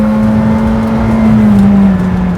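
A Ferrari SF90 or McLaren Senna accelerates hard on a test track, its engine note rising steadily and loud through the gears as a continuous close roar with no talk.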